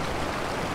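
A waterfall roaring as a steady, dense rush of falling water, loud and close, with no voices over it.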